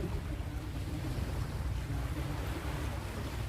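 Sea waves and wind make a steady, loud, unbroken rushing roar along a coastline where a large naval ship sits offshore, with no voices.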